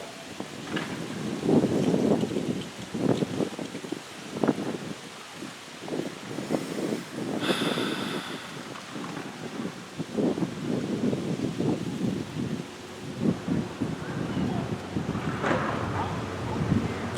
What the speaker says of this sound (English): you wouldn't be able to hear me during the wind blowing